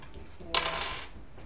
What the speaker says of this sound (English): So against Thaddeus, let's roll some dice.